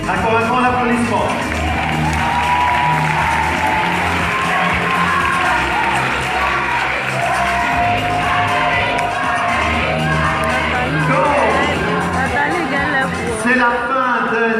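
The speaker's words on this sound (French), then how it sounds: "Encore un grand applaudissement." Crowd applause mixed with loud cheering, whoops and excited shouting voices, including children's, a busy, lively roar of many people that swells and stays dense throughout.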